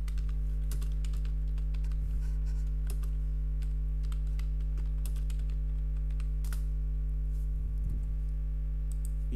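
Names are typed on a computer keyboard in scattered, irregular clicks and short bursts of keystrokes over a constant low electrical hum, close and fairly quiet, with no talking.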